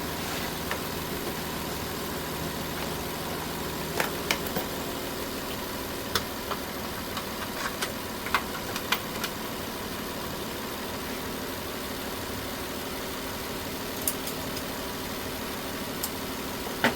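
A 2008 Nissan Altima with a lean bank 1 fault idles steadily at a moderate level, a continuous low hum with a few faint clicks and ticks scattered over it and no voices.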